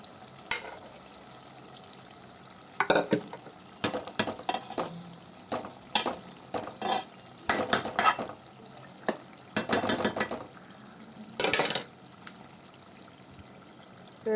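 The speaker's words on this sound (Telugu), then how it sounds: "ఆ చింతపండుని కొంచెం రసం తీసుకొని పప్పులో మిక్స్ చేసుకోండి" Scattered scrapes and clinks of stirring tamarind juice into amaranth leaf dal in a pot, irregular close bursts separated by near-quiet gaps.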